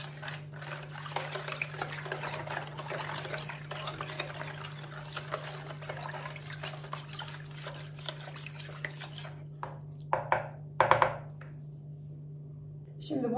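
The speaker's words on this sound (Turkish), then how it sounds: "Hemen bunu bir çırpıcıyla karıştırırım. Şekerimiz, tuzumuz içinde erisin." A whisk stirs water with sugar and salt in a bowl for soft açma dough, giving a faint, continuous swishing with a few brief clinks near the end.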